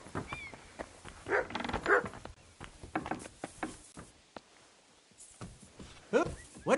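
A dog barks in Kingdom Come Deliverance 2, with several sharp yaps and whimpers standing out close and loud amid game dialogue.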